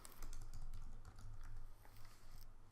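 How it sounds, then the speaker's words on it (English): Quiet, rapid clicking on a computer keyboard while entering text into an infographic design, a continuous close run of keystrokes with no voices. "now I'm going to type"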